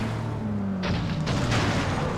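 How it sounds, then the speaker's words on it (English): A car rolls over and crashes in the racing game FlatOut: a steady engine drone under a sudden crunching impact, followed by several sharp clattering bangs and rough tumbling noise, loud and close with no talk. "And my car just rolled itself."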